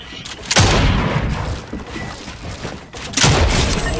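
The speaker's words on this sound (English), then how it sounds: "Why do you shoot on spawn?" Video game gunfire, two loud, close bursts with booming impacts about two and a half seconds apart, over a continuous background of game noise.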